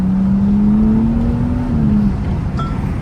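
A BMW M235i accelerates through rush-hour traffic toward the Johannesburg CBD, its engine note rising steadily for about two seconds before easing off, loud and close over road rumble, followed by a brief light clink.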